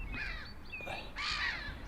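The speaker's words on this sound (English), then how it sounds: "There's all the seagulls off to roost." Several seagulls squawking harshly as they fly off to roost over a lake on a cold evening, a few quick calls close together, fairly faint and alone.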